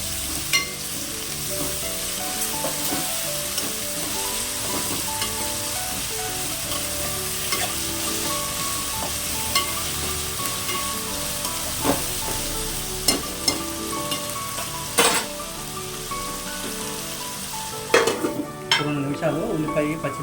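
Onion, green chili and tomato frying in a pan for chana dal veg biryani, a steady close sizzle throughout with frequent spoon scrapes and clinks against the vessel, no talk.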